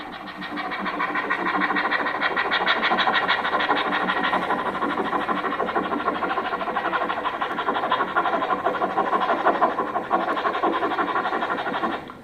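A voice imitates an approaching train at a school mimicry performance: a dense, rhythmic chugging and hissing that builds quickly and holds steady and loud for about eleven seconds.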